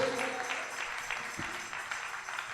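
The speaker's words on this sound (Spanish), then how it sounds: "Dale un aplauso al Señor con todo tu corazón." A church congregation claps together during a Spanish-language Sunday evening service, a fairly soft, continuous patter of applause with little talk.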